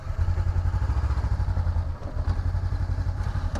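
A motorcycle at a riding school's training lot thumps along at low speed, its engine pulsing in a steady rhythm near and loud for a U-turn and precision stop, with a brief dip in the middle and no talk.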